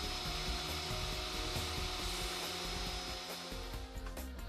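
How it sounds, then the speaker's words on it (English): Steady, loud mechanical whine of a core drill boring holes through a pool deck, running continuously with a constant droning hum throughout. "Core drill at all 4 holes."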